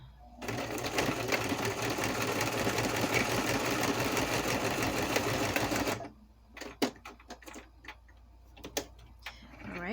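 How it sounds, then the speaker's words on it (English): A sewing machine stitches a zigzag through layered papers, running in a steady, dense mechanical whir for about six seconds, then stopping. A few scattered clicks and handling knocks follow. "I'm going to sew, and I think I'm going to use a zigzag stitch."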